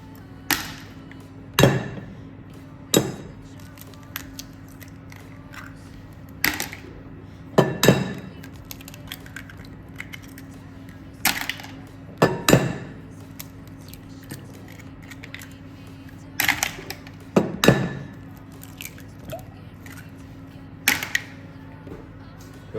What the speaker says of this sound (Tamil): இப்போ என்ன செய்கிறீங்கன்னா 5 முட்டையை இதுக்குள்ள உடைச்சி போடுறீங்க